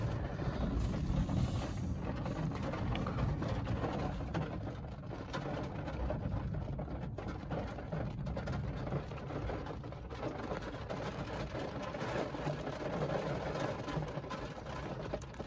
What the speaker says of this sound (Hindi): मैं गाड़ी में बैठा हूँ, बाहर बारिश हो रही है